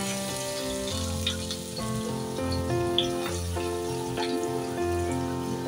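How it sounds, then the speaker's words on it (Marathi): Garlic-stuffed Agri-style mackerel slid into hot oil in a pan sizzles steadily and densely, close up, with small pops and a faint tonal background hum, and no one speaks. "तेल छान गरम झालेलं आहे. आता आपण त्यात सोडूया बांगडा."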